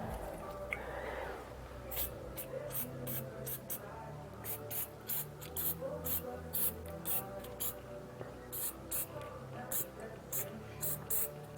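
Brake cleaner sprays onto a brake assembly in a home garage in a series of short, sharp aerosol hisses, some clustered and some spaced out, close and fairly crisp over a low background.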